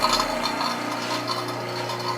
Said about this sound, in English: here's our vacuum pump running